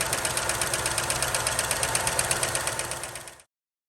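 1983 Ford Crown Victoria engine with low oil pressure running at a rough, knocking idle close up, rhythmic pulses steady for a few seconds before it shuts off and falls silent.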